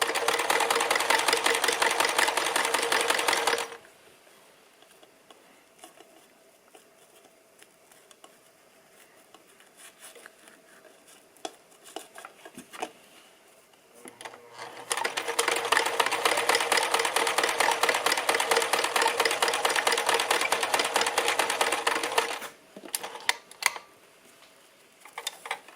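A sewing machine stitches a Christmas stocking in two long steady bursts of fast, even whirring and needle clatter, close and loud, separated by quieter pauses with light handling noise.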